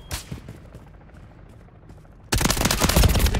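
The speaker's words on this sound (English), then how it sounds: "Taking effective fire." Call of Duty Warzone gunfire: after a quieter stretch with a few faint shots, a loud, sustained burst of rapid automatic fire starts abruptly and continues to the end.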